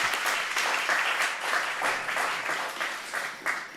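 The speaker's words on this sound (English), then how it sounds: "Everybody clapping." A studio audience breaks into steady, dense applause that stays fairly even and close throughout, with no clear talk over it.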